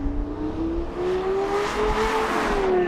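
A V8 engine revs steadily upward in a continuous, close, loud drone, its pitch climbing gradually over a few seconds without any voices.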